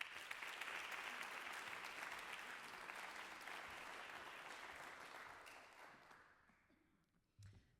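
An audience gives a sustained, dense round of applause for a spoken-word poetry performer at an evening event, steady for about six seconds before tapering off, with a faint sound near the end.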